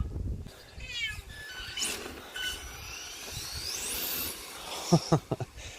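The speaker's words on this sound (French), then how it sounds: "Le chat qui veut pas rentrer." A cat that won't come back inside, meowing clearly a few times at close range over background noise, followed by a short burst of sharp clicks or taps near the end.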